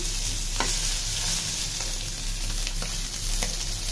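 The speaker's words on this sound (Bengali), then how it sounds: "মাছটা এই যে মসমস করে ফ্রাই করতেছি" Small pabda fish fry in hot oil in a pan, giving a loud, steady sizzle throughout with occasional soft scraping as they are turned, close and without talk.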